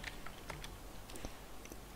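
Soft, irregular clicks of keys on a computer keyboard as numeric values are typed in, faint and close with brief gaps between keystrokes.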